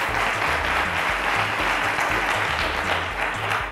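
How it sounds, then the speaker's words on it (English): A studio audience claps for a contestant on the Cowbellpedia quiz show, dense, loud applause that runs continuously while a low musical bed pulses underneath. "Let's give him a round of applause"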